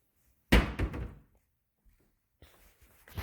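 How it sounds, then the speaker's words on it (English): A soft-close kitchen cabinet door in an A-frame home at Lake Arrowhead, California, shuts with a muted thunk, a brief rattle following, then a faint second closing sound near the end. "Oh, and these are the soft close hinges."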